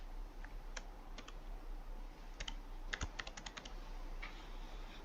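Username and password being entered on a computer keyboard: scattered single key taps early, then a quick run of clicks, close and quiet against a low background hum.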